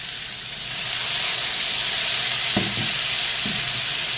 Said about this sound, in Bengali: এখন তেলের পরে দিয়ে দেবো পেঁয়াজ কুচি।